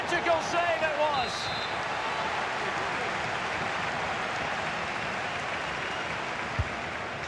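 A stadium crowd in the EA Sports FC 25 football video game roars in a steady, dense wash of cheering that lasts throughout, with a brief voice at the start.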